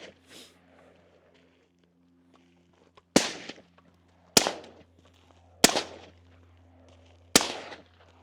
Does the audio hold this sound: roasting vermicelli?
no